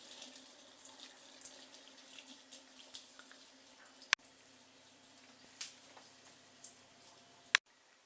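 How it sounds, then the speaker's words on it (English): A faucet runs in a thin steady stream while a pet drinks from it, with faint drips and a couple of sharp clicks, quiet and close. "he always wants to drink at the water faucet"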